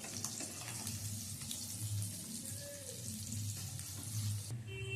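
Eggs frying in mustard oil in a wok, a steady close sizzle with low bubbling crackle running throughout, with a few faint clinks near the end.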